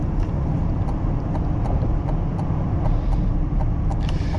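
A 2025 Cadillac Escalade IQ electric SUV drives in sport mode on back roads. Steady road and tire rumble and cabin noise come from inside, continuous and moderately loud, with small intermittent bumps and no talk.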